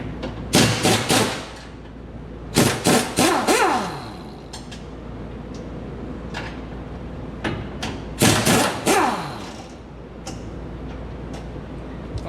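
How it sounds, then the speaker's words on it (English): Air impact wrench taking a cross brace off a John Deere 9400 combine during repairs: three loud, rattling bursts separated by pauses, heard close over a steady low background hum, with no talking. "Only thing I don't like about using the air wrench around the combine is it blows dust around"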